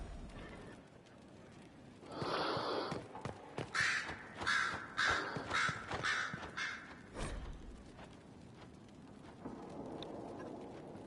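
Crows cawing in Dragon Age: Inquisition, a series of harsh, loud caws in a quick irregular run over a rain-like hiss, with a deep rumble and a fainter low hum before and after.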